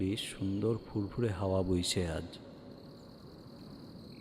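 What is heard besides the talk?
crickets chirping at night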